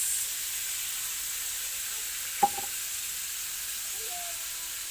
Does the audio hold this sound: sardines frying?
yes